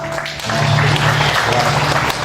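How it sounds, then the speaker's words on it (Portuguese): A church congregation at a Portuguese-language Christian service breaks into loud, dense applause that swells after a brief pause and holds steady, with a faint low hum beneath. "Aplausos para o nosso"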